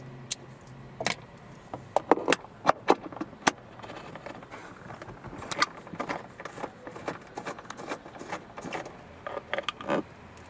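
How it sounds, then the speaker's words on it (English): Unscrewing a bolt from the A-pillar trim of a Volvo XC, with small metallic clicks, ratcheting and scattered taps close by, irregular and fairly quiet throughout. "Now we can unscrew this bolt."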